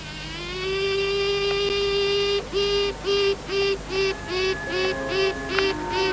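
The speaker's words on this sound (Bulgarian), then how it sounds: "Още в маточника, пчелата майка дава знак, че ще излезе." A honeybee queen still inside her queen cell pipes before emerging: one long steady high tone, then a series of about eight short rhythmic toots, close and clear against a faint hive hum.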